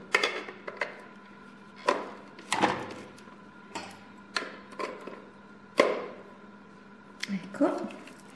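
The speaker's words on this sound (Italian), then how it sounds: "montiamo le fruste." Whisks are attached to a Moulinex HM 412 electric hand mixer, giving a series of sharp plastic clicks and knocks, about eight separate snaps spread irregularly, close and moderately loud.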